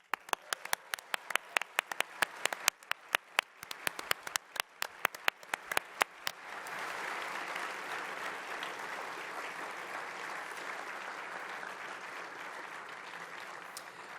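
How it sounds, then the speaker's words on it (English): Audience at an awards ceremony for game audio claps, a few sharp loud claps at first, then a full, steady wash of applause from the crowd that holds to the end. "I say a round of applause for that"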